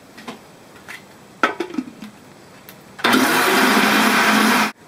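A kitchen blender whirs loudly and steadily while mixing batter for toad in the hole, after a few light clinks and knocks of utensils.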